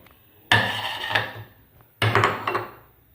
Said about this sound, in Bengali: এবার বসে গেছি শিল নোড়া নিয়ে সর্ষে আর কাঁচা লঙ্কা বাটতে